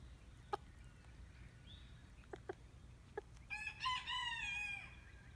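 A farm rooster in North Carolina gives a few sharp, isolated clucks, then one loud, drawn-out crow near the end, heard alone over a low background hum.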